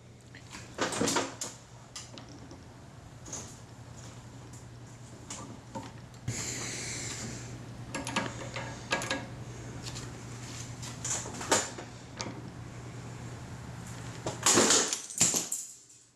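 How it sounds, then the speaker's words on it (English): A light-duty bench vise breaks in a workshop: a few sharp metallic cracks and clunks stand out over a steady low hum, with a loud snap near the end and quiet shuffling between. "Yep, that was our light duty vise breaking."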